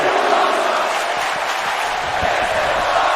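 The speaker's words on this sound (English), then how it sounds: "The crowd here in Colorado Springs getting their money's worth here tonight on Rebellion" Arena crowd in the wrestling video game WWE 2K19 roars continuously, a loud, dense wall of cheering with no breaks, voices blending into a steady wash of noise.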